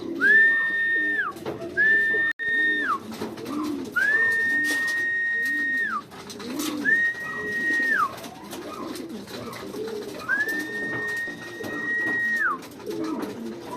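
Pigeons coo softly in a steady, overlapping murmur nearby, while a person whistles repeated long, level notes over them.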